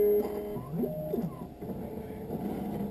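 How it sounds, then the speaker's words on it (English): An optical lens tracer runs over an eyeglass frame, a Ray-Ban 2132 New Wayfarer in blue rubber, making soft mechanical whirs and stepping motor tones that rise and fall, fairly faint, with no talk. "the caliper is going to come down and trace the shape of your left lens"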